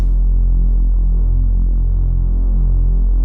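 A Reese bass synth patch built in Serum with unison voices stacked up, producing a loud, sustained low drone with a steady wobbling, throbbing beat for the whole stretch, for a deep liquid drum and bass track, alone with no talk.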